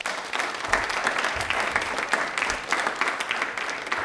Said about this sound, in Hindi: भारतीय क्रिकेट टीम के लिए तालियां एक बार जोरदार बजा दीजिए।